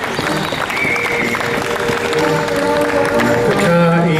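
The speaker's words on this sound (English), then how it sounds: "I think that deserves a round of applause itself." A steady, loud wash of crowd applause greets a team from Chile at a car race event. Murmuring voices and tonal sounds mix into the clapping throughout.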